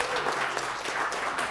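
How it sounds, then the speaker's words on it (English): Brief burst of audience applause at a city council meeting, an even, continuous patter of many hands clapping in a room, moderately loud and unbroken. "Yes, you can give them a round of applause."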